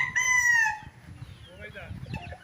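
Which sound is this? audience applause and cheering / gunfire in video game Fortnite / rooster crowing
rooster crowing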